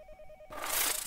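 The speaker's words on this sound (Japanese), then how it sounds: "また電話が鳴ってる。" An in-game telephone rings in the Japanese horror game Yomawari, a short shrill electronic ring starting mid-clip after a faint tone, loud and alone without talk.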